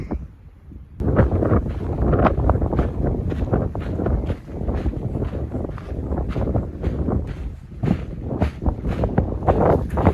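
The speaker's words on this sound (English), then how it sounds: "A little bit of calm before the next wind gust." Strong wind gusts buffet the microphone on a mountain canyon trail, surging and easing in loud, uneven bursts with a brief calm at the start before rough roaring waves return.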